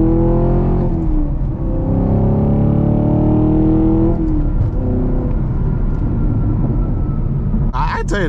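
A Chevrolet Camaro 2SS 1LE with a six-speed manual accelerating hard, heard from inside the car: a loud engine note climbs in pitch, drops at each gear change, then climbs again, with someone talking over it.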